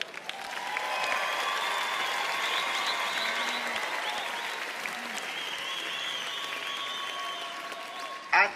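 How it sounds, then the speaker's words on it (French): An audience at a world circus festival applauds steadily and loudly, with some cheering and faint voices in the crowd, ending on a sharp burst. "Il est temps maintenant pour vous de les applaudir"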